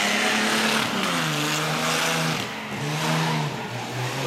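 A supercharged 1931 vintage sports car at a hill climb, its engine revving hard and climbing in pitch through gear changes, loud and close throughout.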